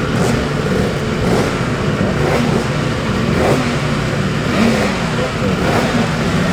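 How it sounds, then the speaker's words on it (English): 250cc Yamaha racing motorcycle on the Isle of Man Classic TT start grid, its engine revving in repeated rising blips over a dense crowd and paddock din, with a commentator talking. "The yellow machine there in the second slot is the 250 Yamaha which Dean Harrison will ride for Warr Racing"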